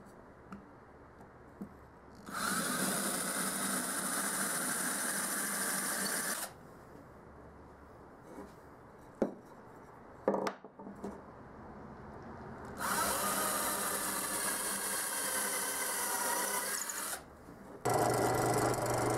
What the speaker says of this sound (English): I needed to recess the holes just a slight bit for the T-nuts.